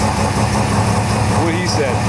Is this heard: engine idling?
yes